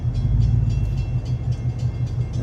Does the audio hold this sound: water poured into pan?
no